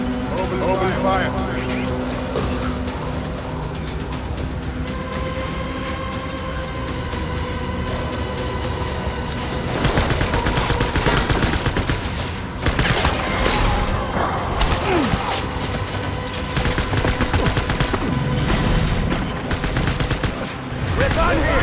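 Sustained gunfire in the video game Death Stranding, with rapid bursts and volleys of shots building into heavy continuous fire over mechanical clatter, loud and close, with game voices shouting over it.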